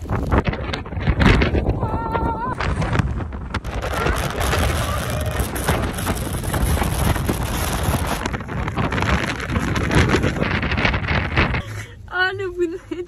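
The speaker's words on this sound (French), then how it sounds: "Je viens de me faire défoncer par le vent" Strong storm wind roars and buffets around a car, loud and gusty, with heavy rumbling and rustling bursts that rise and fall for the whole stretch while people speak now and then over it.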